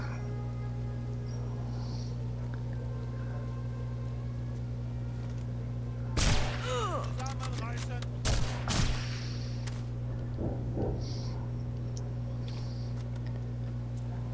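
Sniper rifle shots from Sniper Elite Resistance, in the Mud and Thunder mission, land as a few sharp, isolated cracks with ringing tails, spaced seconds apart over a steady low hum.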